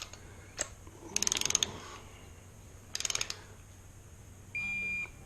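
A torque wrench with a long socket tightens a nut on a Jaguar MKII engine. Two short bursts of rapid ratchet clicks sound up close, followed by a brief electronic beep near the end.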